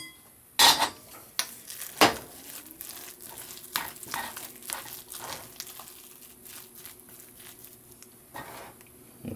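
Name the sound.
fluffing stuffing with an MRE spoon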